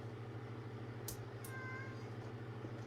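A pet cat gives a brief, faint meow indoors against a steady low hum, with a couple of soft clicks nearby.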